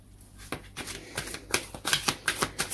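Romance Angels Oracle cards being shuffled close by: a series of crisp riffling and flapping bursts that start sparse and quicken into a steady rhythm, alone without talking.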